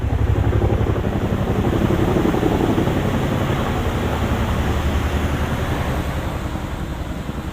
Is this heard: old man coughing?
no